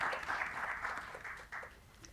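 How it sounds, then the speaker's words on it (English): Audience members at a teachers' award presentation ceremony clap in a moderate, uneven burst, individual hand claps audible at close range, thinning and tapering off near the end. "A huge round of applause for him as well."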